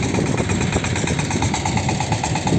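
Small walk-behind tiller engine idling while a vegetable garden is tilled, a continuous close, rough putter with steady vibration and no pauses.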